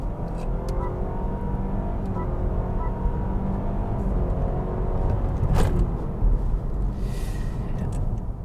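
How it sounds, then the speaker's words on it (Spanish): A car's artificial engine sound system produces a steady low drone inside the cabin, simulating gear changes, with a faint rising tone and a brief sharp click partway through. "es un sistema de sonido artificial que hace que la conducción sea un poco más"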